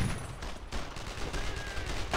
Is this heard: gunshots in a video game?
yes